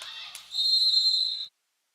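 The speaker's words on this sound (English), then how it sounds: "A late whistle and a foul." A referee's whistle at a women's college basketball game, TBC Eagles versus Denmark Technical College, gives one loud, sustained, shrill blast of about a second after a brief burst of crowd and court noise.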